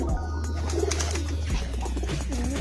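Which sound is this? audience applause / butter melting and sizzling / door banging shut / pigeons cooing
pigeons cooing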